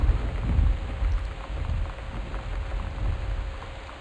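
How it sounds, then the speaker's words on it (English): Steady rain falls alongside a low thunder rumble in the video game Gone Home, a constant wash of rainfall with the deep roll strongest at the start. "Oops, there goes the thunder again."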